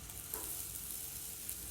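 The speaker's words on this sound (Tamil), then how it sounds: "இப்போ இதை வாணலில் போட்டுக்கோங்க." Ground almond paste blended with milk hits a hot frying pan for badam burfi, giving a steady close-up sizzle with a faint stirring scrape, and no one speaks.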